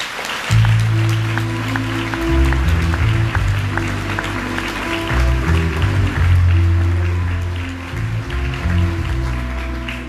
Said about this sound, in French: Merci d'applaudir bien fort Natacha Régnier